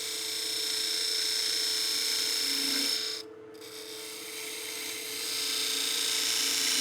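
A narrow parting tool cutting a kerf into a wooden box blank on a lathe at reduced speed, a steady close whirring and scraping hum with a brief dip in the middle, no talk.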